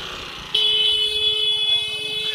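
A steady car horn, pressed by accident, blares and holds continuously, loud and close, over faint background chatter at a beach camp.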